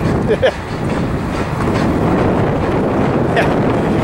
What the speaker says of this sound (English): tell this train's struggling up the pass